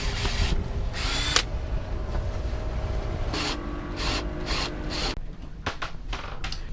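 A power drill drives screws into wood on a sailing boat, giving short whirring bursts with brief pauses between them. A steady low background hum runs beneath, and no one talks.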